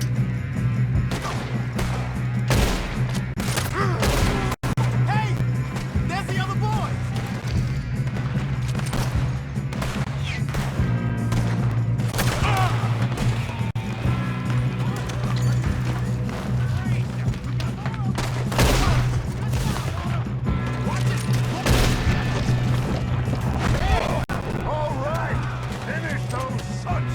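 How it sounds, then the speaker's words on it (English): Gunfire from the Red Dead Redemption 2 game fills a shootout, with many sharp rifle and pistol cracks arriving in dense, irregular volleys that stay loud throughout over a constant low rumble. "Good shooting, kid."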